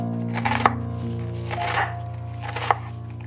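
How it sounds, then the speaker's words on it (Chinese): A knife chops fresh rosemary on a board in a few separate, firm strikes over a low steady hum, with no talking. "新鲜的迷迭香切碎"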